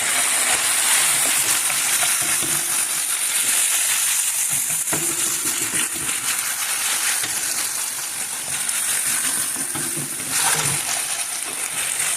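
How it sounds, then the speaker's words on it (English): Beef tibs frying in an Ethiopian pan while salt is stirred in, a steady loud sizzle with scraping and occasional taps of the utensil against the pan. "Now we're going to add some salt and mix it."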